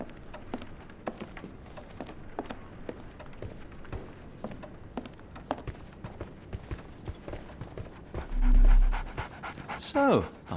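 Dog panting in the Sherlock Holmes The Awakened video game, a steady rhythmic breathy pant running throughout at close range, with soft footsteps and a brief louder thump and whoosh near the end.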